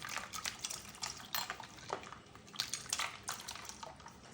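Milk and Roohafza sharbat, cool and thick, poured from a vessel into a glass, with faint splashing, dripping and light clinks of glass and utensil at close range, no voices.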